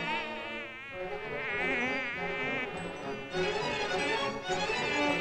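A steady, whining insect buzz runs throughout, wavering in pitch, loud and close, layered with a sustained musical drone underneath.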